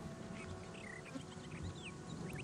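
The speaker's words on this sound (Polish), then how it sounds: "Na szczęście, panie, pszczoły mi niczego nie robią." Bees buzz at a beekeepers' camp in the video game Gothic II: Archolos. The hum is faint and steady, with soft passing whines from individual insects and no speech.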